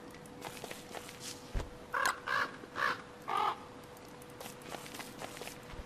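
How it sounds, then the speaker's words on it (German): A bird in the video game Don't Starve caws four times in quick succession, loud and close, amid soft footsteps and quiet game ambience. "Da ist schon der nächste Vogel drin."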